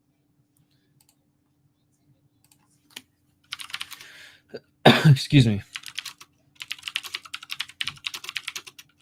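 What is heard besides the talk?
typing on a loud old computer keyboard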